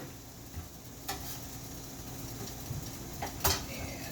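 Shallot sautéing in olive oil in a pan, a soft low sizzle close by with a few sharp clinks and scrapes of a utensil against the pan.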